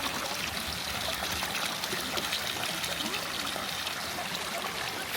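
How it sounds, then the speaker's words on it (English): Fresh mountain water runs steadily into a bottle at a free public fountain in Switzerland, a continuous close trickling and splashing that holds level throughout with no talk. "I'm just gonna fill up my bottle."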